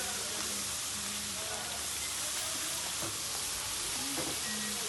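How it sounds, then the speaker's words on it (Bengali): Hilsa fish from the Padma frying in mustard oil in a large kitchen, giving a steady broadband sizzle that runs evenly throughout, with faint clinks and brief utensil sounds over it. "এখন এটা সরিষার তেলে ফ্রাই করবে"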